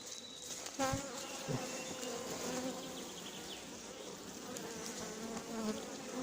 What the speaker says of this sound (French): Là, les abeilles se sont mis un peu en mode défensif.